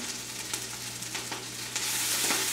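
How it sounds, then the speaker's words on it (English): Kale cooking down in a soup pot for Tuscan chicken soup, giving a dense continuous sizzle with faint stirring scrapes that grows a little louder near the end, alone with no voices. "I'm going to add the kale first before the other ingredients, because you really do need to wilt that down and cook it down"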